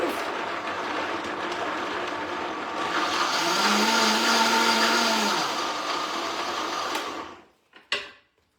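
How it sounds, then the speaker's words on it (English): A countertop blender coarsely chops ingredients for golden milk, its motor whirring loud and steady for several seconds before cutting off, followed by a couple of brief clicks. "we are going to blend this very coarsely."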